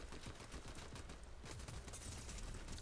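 Dense bursts of rapid gunfire crackle through a shooter video game, loud and continuous with overlapping volleys and a brief lull midway, no voices.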